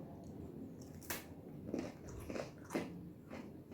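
Crisp crunching bites into Turkish pickled cucumber, about four sharp crunches spaced roughly half a second apart, close up, with no talking.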